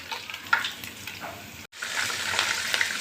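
Garlic and cumin seeds fry in a pan, a steady close sizzle and crackle with a brief gap before the hiss picks up again.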